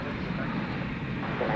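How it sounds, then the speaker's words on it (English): Airliner coming in to land at DFW Airport at night, a low continuous jet rumble heard at a distance, with a voice talking over it. "Another plane coming in now on 18 right left."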